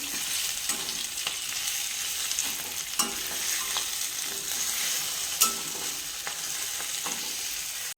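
Boiled, chopped potato being stirred into sautéed onion in a pan: steady sizzling frying with scraping and clacking stir strokes, close and continuous, no talk.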